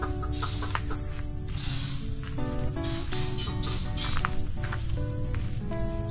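Native chickens of mixed breed cluck and call in a farmyard, repeated short clucks and calls fairly close over steady background noise.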